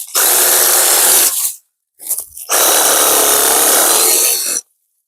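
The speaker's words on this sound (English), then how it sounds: "The good thing about the saber saw is I'm using a demolition blade." Saber saw fitted with a demolition blade cutting low stumps outdoors, two loud buzzing rasping cuts of about one and two seconds separated by a short pause and a brief restart.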